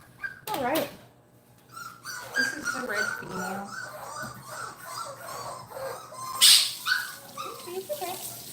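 A kennel puppy whimpers and yips in short high bursts close by, with a louder squeal near the end, while a person talks over much of it.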